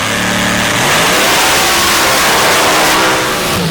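A supercharged Hemi drag racing engine revving hard at a Mississippi drag race, very loud and close, a dense sustained roar with a rising rev, no voices.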